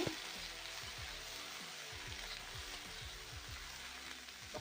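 Shrimp fry in a pan with turmeric, giving a steady, close crackling sizzle with no pauses and no talk.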